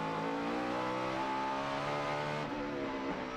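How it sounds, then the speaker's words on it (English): NASCAR Toyota stock car at Sonoma in 2009 practice, engine howling at high revs up against the rev limiter, a steady dense roar with a slight rising pitch and a brief shift in tone near the end, onboard and close. "You can hear it get into the rev limiter."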